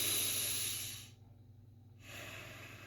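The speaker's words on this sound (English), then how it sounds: "If I'm breathing through my chest," A single loud, close breath drawn in through the chest, a breathy hiss that cuts off into a brief quiet pause before the next airy exhale, with no talking.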